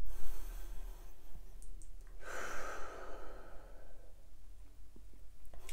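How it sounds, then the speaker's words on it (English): A deep inhaled breath during an EFT tapping exercise, a soft airy rush swelling for about two seconds near the middle, faint and close, with no talking. "Take a deep breath in"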